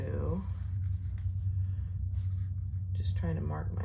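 A pen scratches faintly on purple leather while the center of a waist pack pattern is marked, the soft strokes sitting under a steady low hum with no talking.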